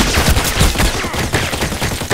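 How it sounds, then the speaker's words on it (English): Shotgun blasts in the first-person shooter Contract Wars on the Parkside map, a dense burst of loud, overlapping booming shots with echoing tails filling the whole stretch, no voices over them. "The shotgun,"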